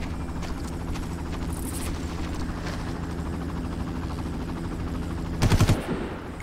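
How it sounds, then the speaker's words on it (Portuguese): In the video game Far Cry, a helicopter drone runs steadily throughout, with rapid bursts of gunfire and a sharp louder volley near the end. "Helicóptero, coisa ruim."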